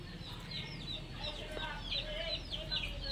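Hens and small chicks in a village house courtyard give soft, repeated high chirps and clucks close by, running over a low steady background hum at fairly low volume.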